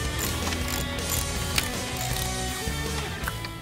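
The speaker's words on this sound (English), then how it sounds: "Once everything's started and lined up, we can tighten them all down." Nuts on the plastic headlight reinforcement panel of a 1999-2004 Mustang are snugged down with a ratchet, which gives a steady close mechanical whir and clicking over a constant low background hum.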